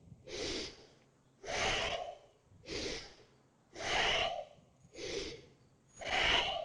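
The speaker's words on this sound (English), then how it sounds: "So just keep following the inhales and exhales, noticing what's coming up." Deep yoga breathing close to the mic, with six slow breaths alternating inhale and exhale in an even rhythm, each a long airy rush separated by quiet pauses.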